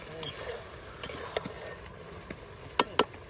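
Vegetables are being sautéed in a pan for a village meal of bhuna khichuri and gourd curry. A soft sizzle sits under a few sharp, close clinks and scrapes of a stirring spoon.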